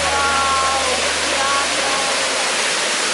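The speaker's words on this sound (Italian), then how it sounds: "e di qua la cascata." Waterfall at Lago del Mis, a steady broadband roar of falling water that fills the whole clip, loud and continuous, with a few faint higher tones over it.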